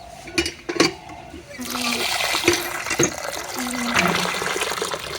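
Water sloshes and splashes in a container as lentils are rinsed by hand, with a running trickle and brief speech in between.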